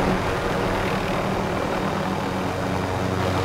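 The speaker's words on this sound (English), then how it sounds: "Hey, we need to get rid of this helicopter." A dense, steady rumble of video game helicopter rotors and engine noise fills the clip, loud and continuous without any pauses.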